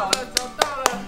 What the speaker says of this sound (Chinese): 鼓掌，掌声拍手